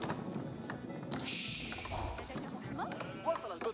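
Sheep bleating in Age of Empires IV during an Ayyubid build order, a few short bleats from the flock mixed with game effects, while someone talks over them.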